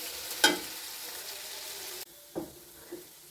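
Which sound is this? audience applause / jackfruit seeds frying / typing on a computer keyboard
jackfruit seeds frying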